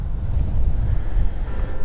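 Steady wind buffets the microphone outdoors during lure fishing, a loud low rumble with gusty swells and no talking.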